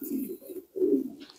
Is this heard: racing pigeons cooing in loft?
yes